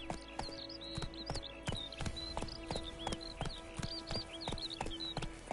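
Roach the horse gallops in The Witcher 3, hooves striking in a quick, steady clip-clop rhythm close up, with bird chirps and a faint low hum underneath.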